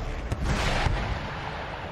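Incoming artillery rounds in the video game Empire Total War land as a continuous rumbling roar of distant cannon fire and explosions, with a couple of heavier thuds rising out of the wash of battle noise.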